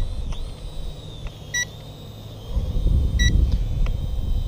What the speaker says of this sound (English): something's beeping here for some reason